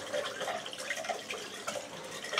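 A tap runs steadily into a sink while hands are rinsed, a close, continuous splashing with small irregular spatters as the hands move through the stream.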